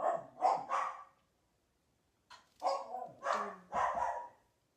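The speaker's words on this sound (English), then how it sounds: "Dogs are barking." Dogs bark in two bursts, three sharp barks, a pause, then four more, close and fairly loud in an otherwise quiet room.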